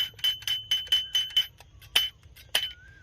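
A series of bright metallic clinks from a bell-type latch lock on a safe, about eight quick strikes with ringing tones, then two louder clinks spaced apart over a low background rumble.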